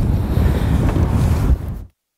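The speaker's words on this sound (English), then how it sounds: "Now it's turned into a pretty windy old day here" Low, rumbling wind buffets the microphone over open water for a couple of seconds before cutting to silence.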